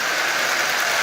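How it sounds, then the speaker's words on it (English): A Marx 666 toy steam locomotive, an old restored model train engine that also puffs smoke, runs with a steady, bright mechanical whir and hiss. The sound is continuous and close, with no voices over it. "turning it into a running locomotive that's not only running well, but it's also smoking"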